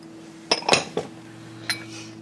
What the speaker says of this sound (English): You just dump all this stuff in a bowl